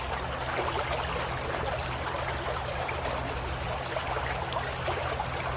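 A small creek flowing steadily past at close range, a continuous burbling trickle of water with no voices.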